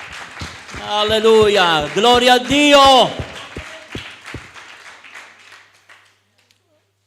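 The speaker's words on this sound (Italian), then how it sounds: "uno degli applausi più mosci della storia" Sparse, feeble clapping from a church congregation at a worship service, a few scattered claps under and after a sung phrase, fading out into silence.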